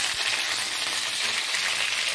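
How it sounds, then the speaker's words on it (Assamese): Pieces of fish fry in hot oil in a pan, a steady, dense sizzle that holds at an even, fairly loud level throughout, with no voices. "ভাজি ল'ম মাছখিনি।"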